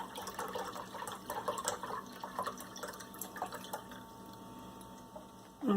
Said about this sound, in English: I'm actually going to add 2 more cups of beef broth